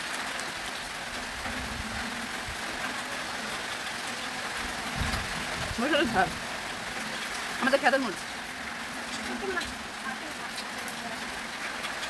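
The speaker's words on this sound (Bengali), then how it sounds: "এত বৃষ্টি এখনো বৃষ্টি কমে না" Heavy rain driven by wind makes a steady, dense hiss that fills the whole stretch. A person talks over it, and a few brief clatters stand out near the middle.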